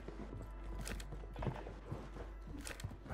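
Enemy footsteps running in Call of Duty on Rebirth Island, a quick series of soft irregular thuds and scuffs close by over a low game hum.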